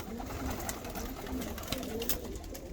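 Hünkâr pigeons coo softly and repeatedly in a loft, low rounded calls overlapping in a gentle steady rhythm, quiet and close with light background rustle.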